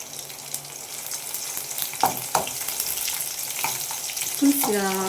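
Garlic fries in oil in a pan for a rajgira leaf stir-fry, a steady close sizzle with occasional scraping stirs and a brief whistling tone near the end.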